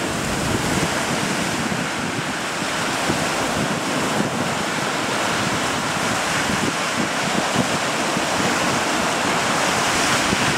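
Rough open sea in strong wind, with breaking waves and constant gusts battering the microphone in a loud, unbroken roar while a fishing boat pushes out from shore.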